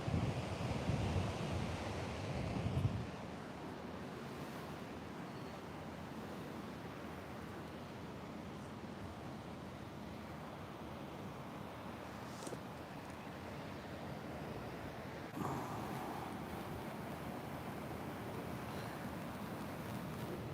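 Ocean waves wash steadily at an oceanfront spot while a sea breeze adds rough wind noise against the microphone, with a louder gust near the start.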